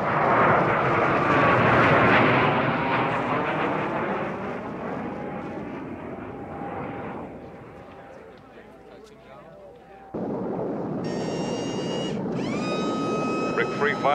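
A fixed-wing aircraft makes a high-speed pass along runway 07, a loud broad engine roar that swells, fades and then returns, while a steady tone and a short burst of electronic beeps sound over it.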